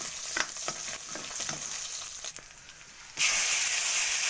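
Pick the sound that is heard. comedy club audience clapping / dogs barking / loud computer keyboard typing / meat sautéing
meat sautéing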